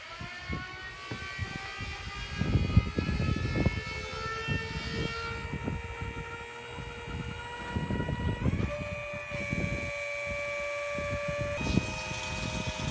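A small electric transfer pump empties a fuel tank through a hose, giving a steady mechanical whine with sustained tonal hum and shifting pitch that runs continuously at close range without speech.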